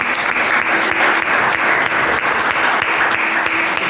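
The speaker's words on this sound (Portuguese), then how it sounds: "aplauda, amém?" A church congregation claps steadily after being urged to applaud the Bible, a dense, even wash of many hands sustained throughout without breaks.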